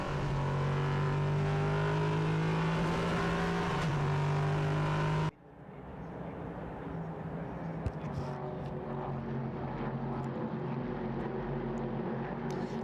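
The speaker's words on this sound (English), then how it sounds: "Just listen to the roar of those mighty engines as they circulate around this circuit." Prototype race cars roar around the Hockenheimring circuit during a Prototype Cup Germany race, a loud, steady engine drone with a sharp shift in pitch and character midway as the cars pass, continuous throughout.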